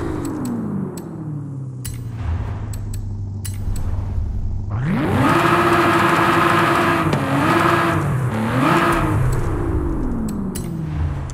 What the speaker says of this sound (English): So I wanted to go and rev the engine, obviously.